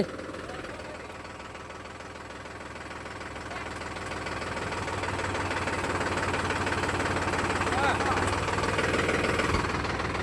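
A tractor engine runs steadily with a low, rumbling knock, growing slightly louder over time, while hauling a pump motor up out of a well, with a voice speaking faintly over it.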